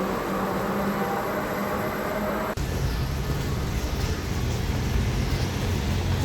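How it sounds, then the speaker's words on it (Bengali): A Kolkata metro train arrives at the station, a loud sustained rumbling roar of wheels and motors that shifts in character midway, with a continuous screech-like hiss, no voices. "তো আমাদের ইন্টারচেঞ্জেবল নেক্সট মেট্রো চলে এসছে"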